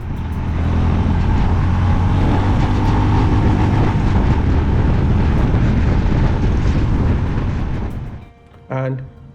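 A Honda H'ness CB350 motorcycle accelerates hard in third gear on an open road. Its loud, steady engine roar is mixed with wind rush, then drops away suddenly near the end before a brief burst returns.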